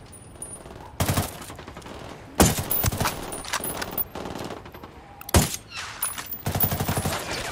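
Bursts of automatic gunfire in the Ghost Recon Wildlands video game, four or five loud, close volleys separated by quieter gaps with faint distant shooting, no talk over them.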